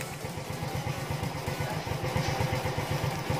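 A Suzuki Smash 115 motorcycle engine idling, its steady rapid low putter running continuously and close, with a slight rise in loudness toward the end.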